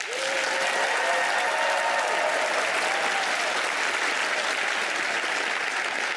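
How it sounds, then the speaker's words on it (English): Loud, steady applause from a studio audience at a magic show, dense and even throughout with no break, a faint tonal sweep briefly audible underneath early on. "let's hear by sound of applause"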